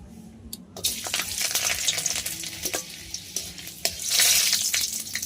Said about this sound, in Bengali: তেলটা যখনই গরম হয়ে যাবে তখন এর মধ্যে দিয়ে দিতে হবে কয়েক টুকরো রসুন।